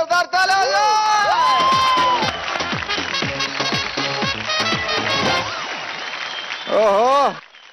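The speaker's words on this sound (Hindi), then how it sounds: "जोरदार तालियां." A television dance competition audience breaks into loud, sustained applause and cheering, with shouting voices and music layered over the crowd noise, swelling again briefly near the end.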